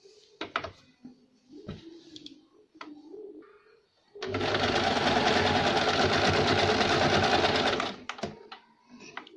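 A sewing machine stitches the fitting seams of a circular umbrella summer frock, a loud continuous whirring run lasting several seconds, framed by short bursts and pauses with pigeon coos nearby.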